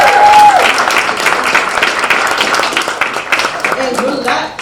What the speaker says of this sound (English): Let's do another big applause for these candidates.